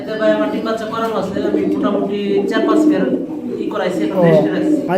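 Bombay pigeons coo in soft, repeated throaty calls close by, mixed under ongoing conversation between men at a pigeon sale.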